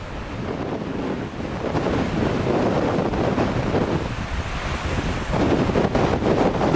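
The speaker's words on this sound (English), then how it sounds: "Winds are howling, waves are crashing into the shore, and an island is holding its breath." Hurricane winds roar against the microphone while waves crash onto the shore, a loud, unbroken wall of rushing noise with surging swells.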